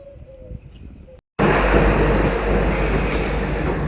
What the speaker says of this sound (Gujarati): ટ્રેન હવે આવી ગઈ